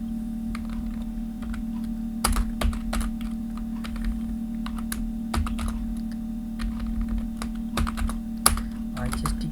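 Keystrokes on a computer keyboard while entering data into an MS Excel spreadsheet, arriving in short irregular clusters of sharp clicks over a steady low hum, with a voice speaking at times.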